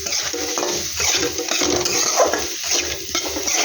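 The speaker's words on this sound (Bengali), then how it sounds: "এটার মশলার সঙ্গে ভালো করে এটাকে নেড়ে এভাবে মেশাতে হবে।" Unboiled potatoes being stirred into masala in a pot for an egg curry, busy metallic scraping and clinks of the spoon against the pot over a light sizzle, loud and close.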